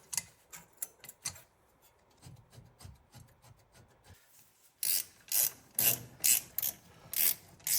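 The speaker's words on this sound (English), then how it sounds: "I just get them fairly snug with a 3/8 ratchet" A 3/8 ratchet tightens the brake caliper bolts on the 2WD front brakes of a 2006 Mazda/Ranger, giving a rapid series of pawl clicks that are softer at first and then louder and more forceful in evenly spaced strokes.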